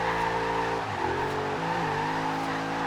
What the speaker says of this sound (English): It sounds like the ISF, which is, I'm pretty sure, the same engine, the ISF, the RCF. Same V8.